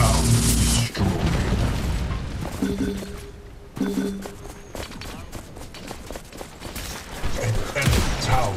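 Explosions and gunfire from an allied tower being destroyed in the video game Predecessor, with loud booms, rapid bursts and footsteps in a dense, busy battle mix.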